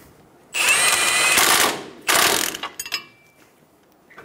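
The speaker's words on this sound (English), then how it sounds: "Snug down the nut." A ratchet wrench snugs down the upper ball joint nut on a 2005-2010 Toyota Tacoma front suspension, in two close, loud bursts of rapid clicking, the second trailing off into a few scattered clicks.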